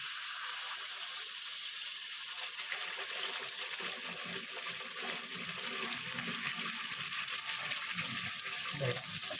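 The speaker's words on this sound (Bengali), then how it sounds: "এরপর আমি এটাতে পরিমাণ মতো গরম জল দেবো" Hot water is poured into a pan of cooking food for palang sager bora, a continuous watery rush and hiss that builds midway, with faint clinks underneath.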